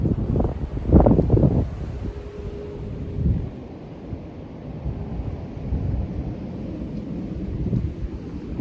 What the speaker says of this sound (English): It's really windy here, so you may not be able to hear me.